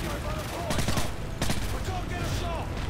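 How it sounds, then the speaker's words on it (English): Dense, continuous gunfire with bursts of explosions in Modern Warfare 3, loud and busy throughout, with a voice talking over the chaos. "See, lots of explosions, lots of gunfire."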